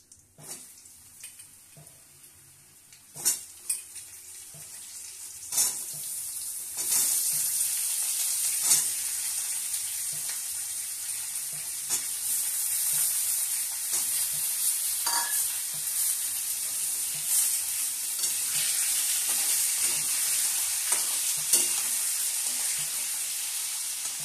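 Potatoes and papaya with spices frying in a pan for khichuri, an initial quieter stretch with a few sharp clatters, then a loud steady hissing sizzle with occasional stirring knocks, close up and free of speech.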